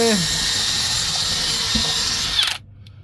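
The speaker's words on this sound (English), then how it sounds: "just drilling a hole in the centre of the bearer" A power drill whines steadily at close range for about two and a half seconds while boring a hole in a timber house-stump bearer, then cuts out abruptly, leaving quiet background hiss.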